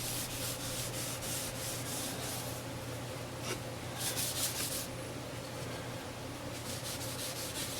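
A hand rubs finish onto the bottom of a scroll-sawn wooden Christmas sign, producing a steady, close, dry scrubbing hiss with slight rhythmic strokes throughout and no voices.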